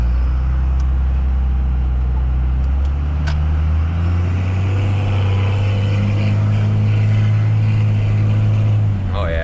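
A 2nd gen Cummins 24-valve diesel truck with a 47RE automatic transmission drives and shifts gears, its loud, steady low engine drone changing pitch partway through as it shifts, heard from inside the cab.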